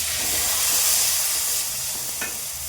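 Tomatoes sautéing with onions in a pan for sambar give a steady, close sizzle and hiss, with a brief scrape of stirring near the end.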